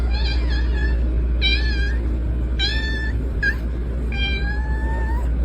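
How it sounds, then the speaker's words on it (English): A cat named Butter, a former shelter cat, meows five times in separate plaintive, rising calls, close and clear over a low steady hum. "the cat who hid for 2 years and then slowly chose me"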